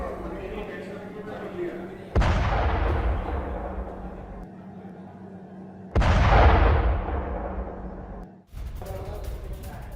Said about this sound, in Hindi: एक के बाद एक धमाके यहां पर हुए हैं।